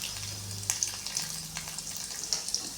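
Lentils fry in a pan for drumstick-leaf chutney, a soft steady sizzle with occasional sharp pops and stirring clicks, close and moderately quiet with a low hum underneath.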